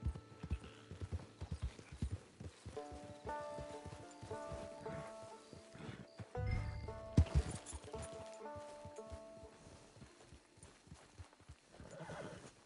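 Horse hooves clip-clop in a steady walking rhythm in Red Dead Online, with a whinny partway through, over soft background music.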